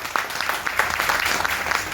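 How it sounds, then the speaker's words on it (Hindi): Steady audience applause fills a hall at a public event, moderately loud and continuous, with scattered sharper claps standing out from the dense clapping. "जोरदार ताली होनी चाहिए।"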